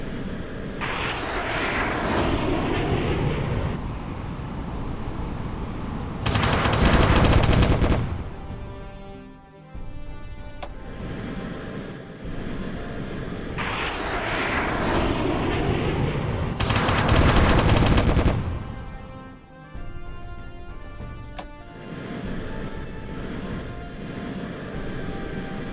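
Aircraft engines drone continuously during an airstrike while bursts of rapid machine-gun fire break out twice, loud and close, with a heavy rumbling roar swelling under each burst.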